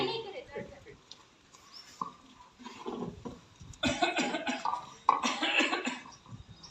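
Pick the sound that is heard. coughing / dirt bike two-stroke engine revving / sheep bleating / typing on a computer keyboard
coughing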